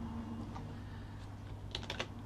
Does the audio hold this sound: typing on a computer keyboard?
yes